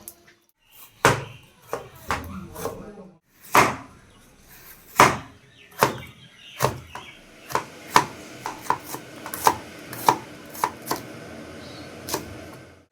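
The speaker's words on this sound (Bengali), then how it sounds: "এবার আমিও এই সবজিগুলোকে ধুয়ে চটপট করে কেটে বসিয়ে দেবো" A knife chopping washed vegetables on a board, sharp irregular thuds at first, then quicker clusters of cuts, close and clear against a quiet kitchen.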